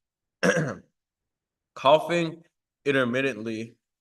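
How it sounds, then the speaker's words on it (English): Three separate bursts of throat clearing and coughing with short silences between them, close and dry, each with a rough voiced quality. "Coughing intermittently"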